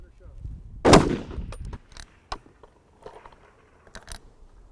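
A single loud 7mm rifle shot cracks out at an 800-yard F-Class match, a sharp report near the start followed by faint scattered clicks and soft handling noises.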